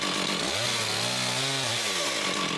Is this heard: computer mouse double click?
no